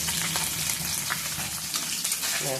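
Pabda fish frying in a pan, giving a steady, close, dense sizzle with crackling spatters throughout, with no talk over it.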